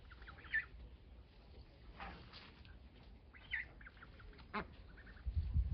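Farm ducks and drakes giving a few scattered quacks over about six seconds, fairly faint and at a middle distance, with quiet gaps between calls and a low rumble near the end.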